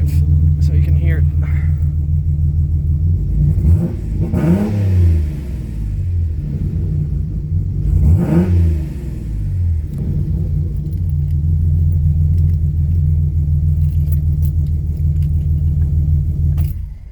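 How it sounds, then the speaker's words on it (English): A turbocharged 3.4-litre VR6 engine in an Audi TT with a 4-inch exhaust idles with a deep rumble, then revs sharply twice, each rise and fall clear and close, settling back to idle between. "Give it a rev so you can hear it."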